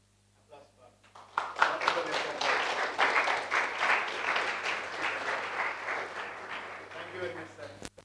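Audience applause fills the room with steady, dense clapping that swells after a brief start and holds for several seconds before tapering off near the end.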